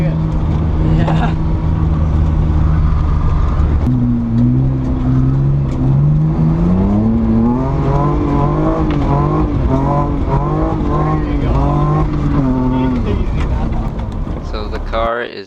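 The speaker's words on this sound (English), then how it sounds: "So the car is a 99 E46. It's a 323i. It's got a welded diff" A 1999 BMW E46 323i with a welded differential, gutted interior and racing seat, driven hard, its engine note climbing and falling through repeated revs and gear changes, loud and close with people talking over it.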